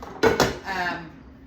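A metal pot of boiling water for canning jelly jars clanks twice in quick succession, followed by a softer ringing scrape as it is set down.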